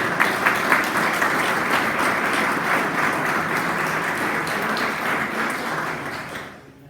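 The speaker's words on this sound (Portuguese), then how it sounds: "Você pode aplaudir?" A church congregation breaks into applause, loud and dense clapping from many hands that holds steady for several seconds before tapering off at the close.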